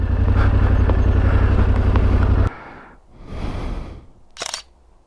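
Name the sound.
camera taking a selfie photo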